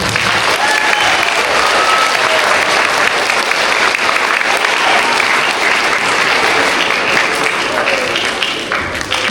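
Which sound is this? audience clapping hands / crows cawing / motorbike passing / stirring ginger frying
audience clapping hands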